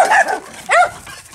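A dog barks at goats in a farmyard: two sharp, close yelping barks in quick succession, loud and alone with no voices.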